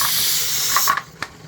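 A pressure canner loaded with meatloaf vents steam in a loud, steady hiss that cuts off abruptly near the end, followed by a couple of sharp metallic clicks.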